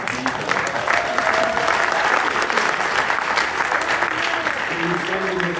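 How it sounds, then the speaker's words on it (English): A conference audience at the Nostriga unconference claps hard in a thick, steady wash of applause that stays loud for the whole stretch, with a few voices faintly mixed in. "guys are clapping so uh, hard"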